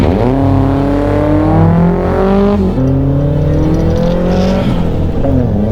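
A turbocharged 1-litre Nissan Micra drives a mountain road with hairpin turns, its engine droning close and loud, pitch climbing through gears with shifts and steady revving from inside the car.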